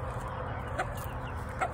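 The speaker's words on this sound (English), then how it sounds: "So this one is my best hen, one of my best hens too." Hens cluck on a backyard bird farm, with two short, fairly faint calls heard about a second apart over a steady low background hum.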